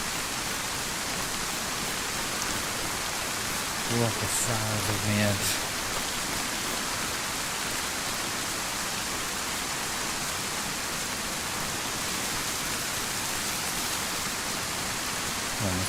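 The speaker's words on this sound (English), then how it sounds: "But the rain is just too much." Steady heavy rain pours across an open DayZ landscape, a constant broadband hiss filling the whole stretch, with someone briefly speaking over it partway through.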